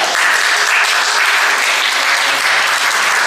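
A congregation applauds steadily and loudly through the whole stretch, a dense unbroken wall of clapping at a religious celebration at the Lourdes sanctuary.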